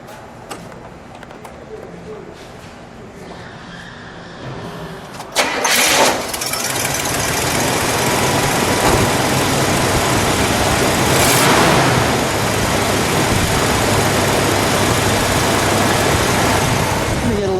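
Quiet background, then a 1976 Buick Century engine cranks and catches a few seconds in, roaring briefly before settling into a steady, loud idle that continues to the end.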